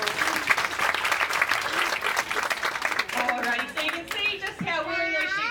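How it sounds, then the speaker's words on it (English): Outdoor crowd at a sheepdog herding demonstration claps for a working dog, lively applause that thins toward the end as children's voices and chatter come through. "Give Rex a big clap"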